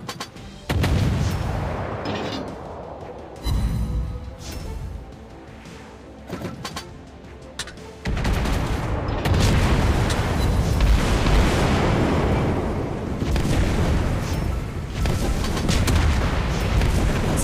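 Heavy naval guns boom in World of Warships Blitz aboard the battleship Alabama, a few deep thunderous blasts early on followed by a long rumbling barrage of sustained gunfire and explosions, loud and close.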